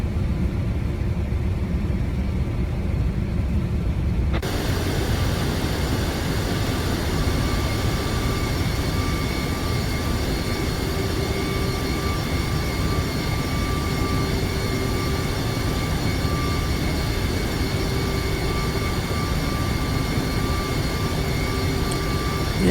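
MD-11 jet engines running steadily in the X-Plane 12 flight simulator, a constant broadband roar with whining tones that swells loud after a few seconds and holds unbroken throughout.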